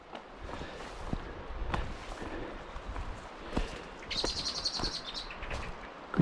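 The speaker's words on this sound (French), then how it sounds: "Écoutez les oiseaux." Birdsong along a wild forest trail in the Drôme, with a thin high chirping trill rising briefly above steady outdoor ambience and scattered footsteps on the path.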